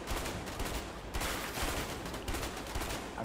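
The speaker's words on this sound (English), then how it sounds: "I'm just shooting through this box." Gunfire in the video game A Way Out during a Mexican shootout, with rapid bursts of shots fired through a box, a dense crackling fusillade running throughout at moderate level.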